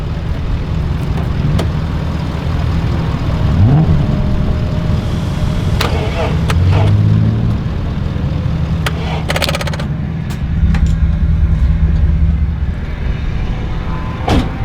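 A BMW E30 engine at a track open lap day, a loud, constant mechanical rumble running throughout, with a brief rising whine early on and a swell in intensity later, and voices talking over it.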